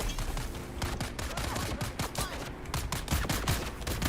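Dense gunfire in Dune: Awakening, with bursts of rapid shots and repeated machine-gun volleys crackling continuously and loudly throughout, several weapons firing at once.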